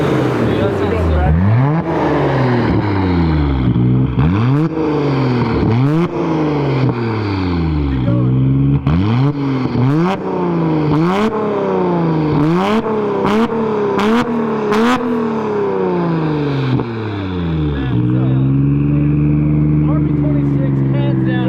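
Nissan Skyline R33 GTR with its RB26 engine revving repeatedly, a series of sharp throttle blips rising and falling in a steady rhythm up close, ending in a settled idle, with people talking over it.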